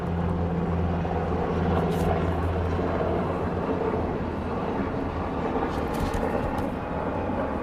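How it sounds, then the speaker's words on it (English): Airplane passing overhead outdoors, a loud continuous broadband roar that holds steady throughout with a low droning hum underneath, no voices heard. "I'm going to wait for the plane to go over."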